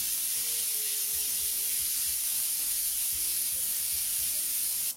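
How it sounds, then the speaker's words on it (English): An airbrush spraying transparent blue paint in a broad pass, giving a steady, close, even hiss that runs without a break. "We're just going to use the transparent blue. Nice wide spray once again."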